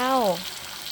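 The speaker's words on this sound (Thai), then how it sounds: "ถึงเวลาก็เอามาทอดเลย" Pork fries in hot oil with a soft, continuous sizzling hiss, and a brief voice can be heard at the very start.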